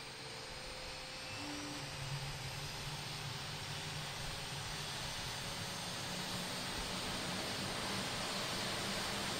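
Embraer E175 jet engine spooling up during startup in Microsoft Flight Simulator, a steady loud broadband whoosh with a low rumble and faint rising tones, continuous for the whole stretch with no talking.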